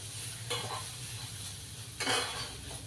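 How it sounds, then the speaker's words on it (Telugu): Ridge gourd peel and moong dal fry in a pan with a constant soft sizzle, broken twice by brief louder bursts as the mixture is stirred. "ఈ బీరకాయ తొక్కు ప్లస్ ఏమో ఈ పెసరపప్పు కలిపి బాగా వేగాలి"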